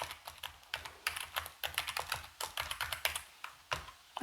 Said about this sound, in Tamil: இதுக்கப்புறமா உங்கள் ரூட் அக்கௌண்ட்க்கான பாஸ்வேர்டை டைப் பண்ணுங்கள்.